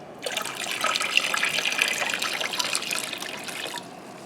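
Water pours steadily into a pot of peaches being prepared for canning for a few seconds, a close, splashing hiss that stops abruptly near the end.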